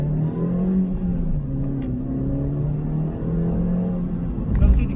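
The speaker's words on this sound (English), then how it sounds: "Doesn't seem to get any quicker revving it hard." A car engine is revved hard while driving through bends, with a steady droning rumble and rising engine tone throughout, and a brief louder surge near the end.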